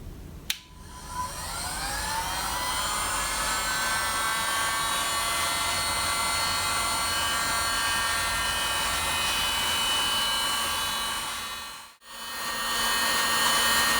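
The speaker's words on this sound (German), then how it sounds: "Hierzu wird der Föhn ca. in einem Abstand von 1 cm über die Schiene geführt." A hot air gun blows steadily about a centimetre above a dental splint, giving a loud, continuous whooshing whine with a high motor tone that runs unbroken for most of the time, then cuts out briefly before starting again.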